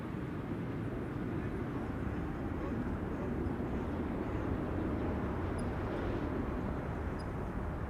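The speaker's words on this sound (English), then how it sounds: "A jet. Arriving from Istanbul." Airbus A321neo jet arriving at Amsterdam Schiphol Airport, heard as a steady broad distant engine roar lasting throughout, with no clear rise or fall.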